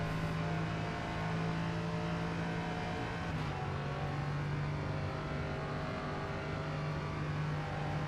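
Race cars lap Daytona in the rFactor 2 racing game, a dense continuous engine roar with a steady droning hum that holds loud and unbroken throughout, one car's pitch shifting slightly partway through.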